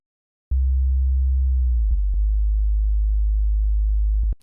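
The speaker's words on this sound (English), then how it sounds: "If I was to turn off this filter and disable the frequency modulation, we get a very pure sine wave" A very pure, steady synthesizer sine tone with the filter and frequency modulation switched off, held loud and alone for about four seconds, with a few tiny clicks along the way.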